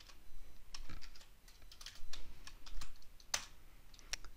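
Typing on a computer keyboard: a quick, uneven run of soft clicky keystrokes, close and clear, with a few sharper key taps standing out and no talking.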